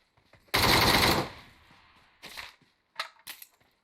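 Loud burst of automatic gunfire in the mobile battle royale game PUBG Mobile, a sustained rattle of shots followed by a few shorter, fainter bursts and single cracks.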